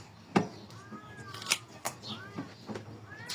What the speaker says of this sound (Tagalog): Nag-aaway yung mga pusa.